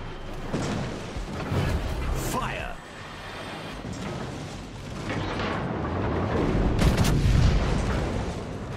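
A warship's naval guns fire in the game, with heavy booming salvos and rumbling blasts over a constant din of battle. The louder shots come near the start and toward the end.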